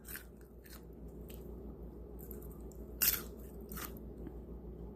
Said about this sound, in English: I wanted you to hear the crunch in this fry